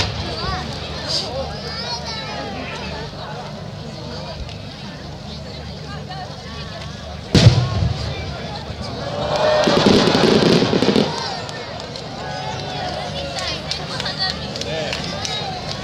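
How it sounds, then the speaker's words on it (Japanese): A 12-inch senrin chrysanthemum firework shell by Nomura Fireworks bursts at the 2014 Koga fireworks festival. One sharp, loud boom is followed a few seconds later by a swelling crackling rumble as many small nishiki bursts open together, with voices heard throughout. "千輪とは花火が開いてからワンテンポ遅れて無数の小さな花火が一斉に出現する花火です。"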